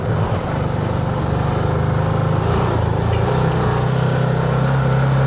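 A backcountry side-by-side off-road vehicle climbs a trail, its engine a loud, steady, close droning rumble that holds constant throughout, with no talking.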